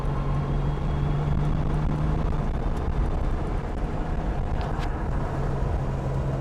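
Porsche engine pulling in third gear while driving, a loud continuous drone with a steady low pitch under road and wind noise from inside the car.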